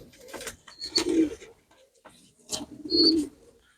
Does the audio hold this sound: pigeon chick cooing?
yes